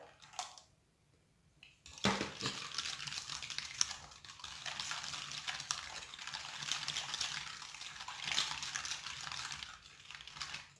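Juice being poured from a glass into basbousa batter in a mixing bowl, a steady close splashing pour that starts abruptly after a brief quiet moment and runs continuously to the end.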